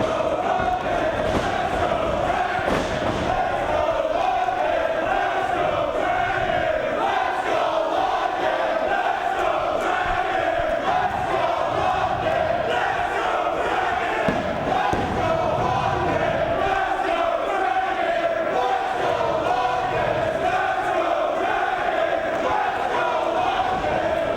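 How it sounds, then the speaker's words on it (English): Wrestling fans in a packed arena roar and chant through a 2-out-of-3 falls match, a steady, dense crowd din that never lets up, with commentary underneath. "Listen to those fans. What an atmosphere in this building."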